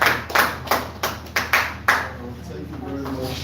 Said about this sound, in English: Let's clap for our brother.